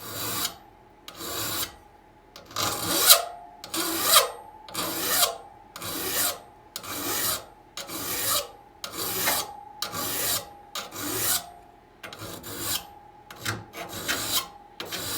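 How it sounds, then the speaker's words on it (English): A triangular file sharpening the teeth of a hand saw, a dozen or so rhythmic rasping strokes close up, each a loud gritty scrape with short pauses between. "That's how I would do it with a triangular file."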